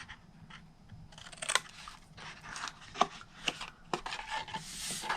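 Scissors snipping through the paper flaps of a large Tic Tac box in a papercraft project, a series of short, close, crisp cuts and rustles at an irregular pace.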